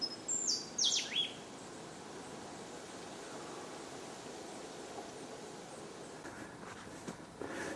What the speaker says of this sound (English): I don't know if you can hear the birds singing.